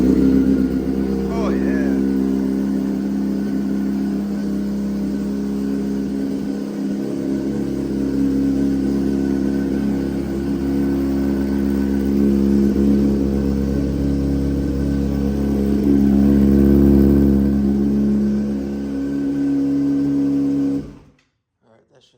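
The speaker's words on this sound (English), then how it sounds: "maybe we should do a cold start for my bike lovers" A 2018 BMW M550i cold start, its engine roaring loudly and steadily with a deep low rumble for about twenty seconds before cutting off abruptly, with a brief spoken remark near the start.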